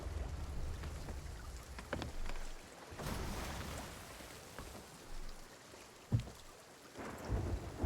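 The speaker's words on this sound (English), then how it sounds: "It's a fucking storm. I thought it was cannon fire" A thunderstorm rages at sea in the Sea of Thieves video game, with steady rain hiss under rolling thunder, one louder crack near the end and low rumbles throughout, and no voices.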